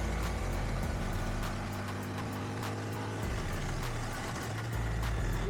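A 2025 Honda Grom SP motorcycle accelerates in third gear with a steady, loud engine drone and rushing wind, heard from the rider's position without any talk.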